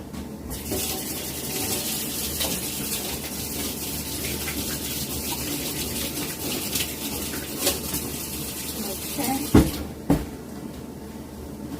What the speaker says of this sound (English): then I wash my hands.